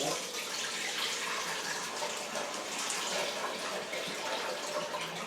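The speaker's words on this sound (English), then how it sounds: "let me go in the sink for a minute and see if I can get some of the water out of" Water pours and splashes steadily into a sink as a potted Phalaenopsis orchid in bark is drained, a continuous close rushing sound with no talk.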